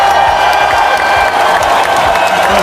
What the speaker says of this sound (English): Let's give him a big Newton round of applause.